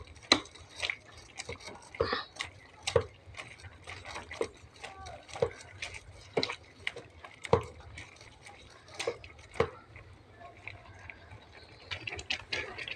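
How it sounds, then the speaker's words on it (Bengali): Cooked taro leaves mashed with a wooden dal masher in a pot: repeated soft knocks and thuds at an irregular, roughly steady pace, close up, with faint background sound between strikes. "ডাল ঘুটনি দিয়ে আমি এটাকে ভালো করে ঘুটে দেব।"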